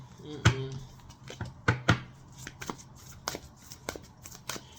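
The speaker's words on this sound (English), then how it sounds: "let me go ahead and finish flipping these cards" Tarot cards being flipped and laid down, giving a quick series of crisp, close slaps and flicks with uneven gaps, over a quiet room.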